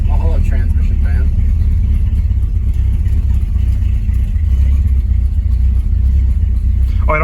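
1968 Pontiac Tempest engine idling roughly, a loud, low, uneven rumble throughout, with a voice briefly speaking at the start and again at the end.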